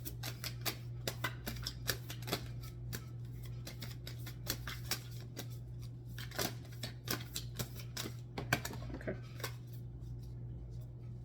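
Tarot cards are shuffled close up, giving a rapid series of crisp riffling snaps and slaps in irregular bursts over a faint steady hum, with no voices.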